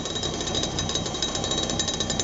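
A clean burn waste oil furnace heating up, its flame aimed at a thick steel target plate, makes a steady, loud, dense rattling roar that continues without a break.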